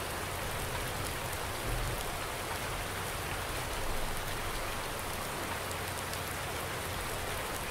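Steady rainfall in Farming Simulator 19, a dense even hiss of drops on surfaces that stays constant throughout, fairly close with no voices.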